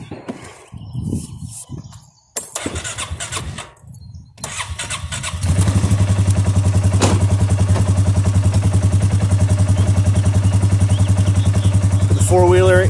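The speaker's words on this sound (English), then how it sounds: "Four-wheeler in four low, all-wheel drive low, and gonna slowly pull until that rope gets tight." A four-wheeler ATV in four-wheel-drive low, pulling logs with a rope: the engine cranks and sputters with interruptions, then settles into a loud, steady close-up idle drone while someone talks over the start.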